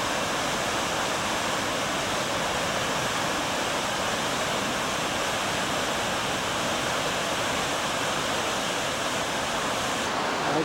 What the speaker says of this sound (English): And there I see another little waterfall.